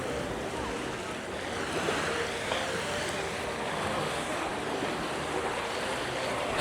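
Sea waves washing along the shore at the Similan Islands in Thailand, a steady soft broadband surf wash with faint wind and distant indistinct voices behind it.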